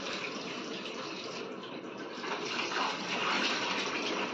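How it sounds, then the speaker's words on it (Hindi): About one kilogram of rice being washed in water in a kitchen, a steady splashing and pouring wash that swells slightly louder partway through, fairly quiet and without talk. "इसको 3-4 पानी से मैं पहले अच्छे से धो लेती हूँ"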